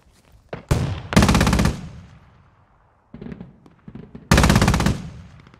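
Rapid automatic gunfire bursts in the Squad video game, several loud close volleys separated by pauses and a few scattered single shots.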